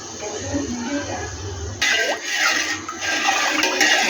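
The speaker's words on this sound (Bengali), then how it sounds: "পাতিলে রাখা পানিটিতে আমরা কিছু এলাচ, দারচিনি এবং তেজপাতা দিয়ে নিলাম এবং কোটা রাখা দুধটি আমরা ঢেলে নিচ্ছি।" Condensed milk being poured into a pot of water spiced with cardamom, cinnamon and bay leaf, with a sudden rushing, splashing liquid sound starting partway through and continuing loud and close.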